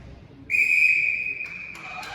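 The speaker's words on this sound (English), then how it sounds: "And the whistle goes, and we're getting set for the second period" A referee's whistle at a youth U18 AA ice hockey game blows one long, loud, steady blast, then a couple of short tweets follow amid quiet arena ambience.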